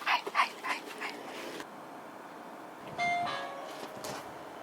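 A dog yips and whimpers in a quick flurry of high-pitched cries, then quieter whines follow over a steady background rumble.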